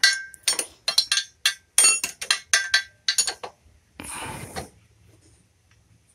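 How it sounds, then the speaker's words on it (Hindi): Main nut of a motorcycle chain adjuster being tightened with a wrench, a quick series of sharp metallic clicks and clinks close by, followed by a short rough rasp and then near silence. "अब ये जो नट है जो मेन नट आता है ये वाला, इसको हम टाइट करना है"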